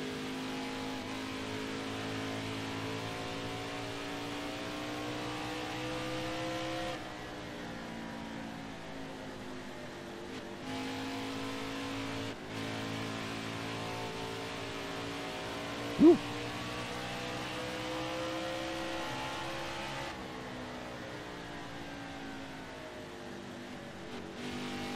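A race car in the NASCAR Heat video game drones at high revs throughout, its engine pitch sliding up and down through gear changes with brief dips, loud and steady with no voices.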